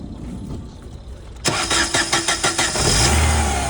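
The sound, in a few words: used car engine running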